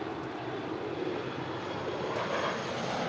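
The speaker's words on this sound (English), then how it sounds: "We have JSX Flight 321 going to Las Vegas. It's an Embraer ERJ135LR." A JSX Embraer ERJ135LR regional jet at LAX gives off a steady, fairly faint engine rumble and whine, unbroken over a few seconds with no one talking.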